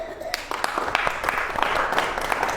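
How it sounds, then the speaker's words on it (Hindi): Church congregation clapping together during a Hindi sermon, a steady run of many hands with sharp individual claps standing out, moderately loud and close, with a faint voice underneath. "अब ताली बजाओ।"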